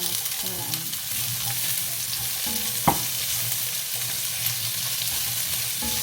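Oil sizzles and crackles steadily in a pan as ingredients for Ilocano igado are sautéed, with a utensil stirring throughout and one sharp scrape or clink near the middle.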